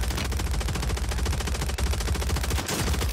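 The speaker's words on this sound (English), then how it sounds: "That guy's sniping over there." Gunfire during a Fortnite match, a rapid, unbroken stream of close, loud shots lasting the whole stretch with no voices.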